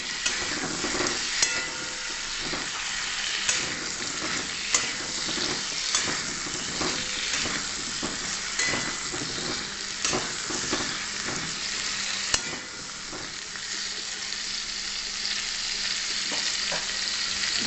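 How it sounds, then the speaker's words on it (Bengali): Pointed gourd and potato pieces with turmeric and salt fry in oil, a continuous bright sizzle broken by repeated scraping and stirring knocks of a utensil in the pan, close and fairly loud. "লাল লাল করে ভেজে নেব।"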